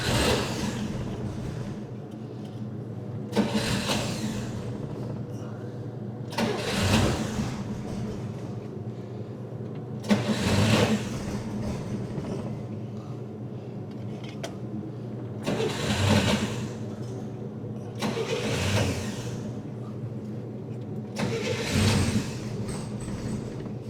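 A 1966 Chevy Corvair engine being cranked in the cold: repeated bursts of starter cranking, about seven attempts spaced a few seconds apart, loud and close, with a rough churning sound between them.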